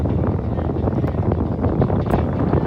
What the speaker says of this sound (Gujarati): હવા બહુ તેજ છે બહુ જ તેજ હવા